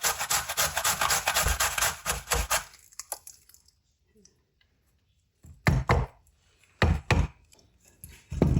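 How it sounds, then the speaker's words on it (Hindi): A small carrot grated by hand for a healthy rice breakfast, with bursts of rough scraping strokes, dense at first, then a quiet gap and a few short separate strokes nearby. "एक छोटी सी गाजर ली है, इसको भी हम इसी तरह कद्दूकश कर लेंगे।"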